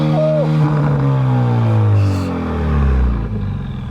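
A 2018 Mustang EcoBoost with a straight-pipe exhaust, muffler and resonator deleted, revving loudly up close, its engine note climbing in a rising, droning roar and then falling back.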